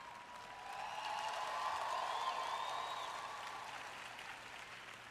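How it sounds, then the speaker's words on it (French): Audience applause in a hall during a talk, a steady broad wash of clapping that swells over the first seconds and then slowly tapers, moderately loud with no voices on top. "Je suis contente pour cet applaudissement de Mickey Mouse."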